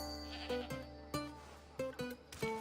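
A goat in Assassin's Creed Odyssey lets out several short, nasal bleats in quick irregular bursts, fairly faint and close, over a soft low background hum.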